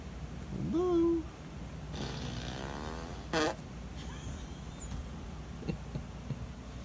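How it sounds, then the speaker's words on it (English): A fart machine used as a prank on a pitbull lets out a short rising, sputtering fart noise, then a brief raspy burst over a quiet room with faint rustling. "the fart machine, huh?"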